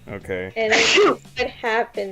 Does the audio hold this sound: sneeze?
yes